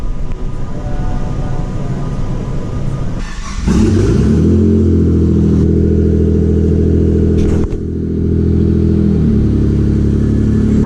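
The engine of a restored Mitsubishi 3000GT VR4 runs close by as the car moves around a driveway. A rough idle gives way to a louder, steady drone after a few seconds, with a brief dip partway through.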